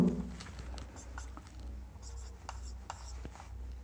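A pen or chalk scratches briefly during a maths lesson on money, with faint strokes and taps set against a quiet room hum.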